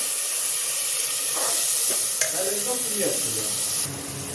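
Water poured into fried spice paste in a pan for a Bengali egg and elephant-foot yam dish sets off a loud, steady sizzle and hiss. The sizzle fills the whole clip, with faint stirring sounds mixed in.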